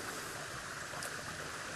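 Water flows steadily in a farm stream, a continuous close rushing and babbling with no voices or other sounds over it.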